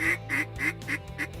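Ducks quacking during a duck hunt, a rapid run of five evenly spaced nasal quacks, fairly close and moderately loud, with no voices over them.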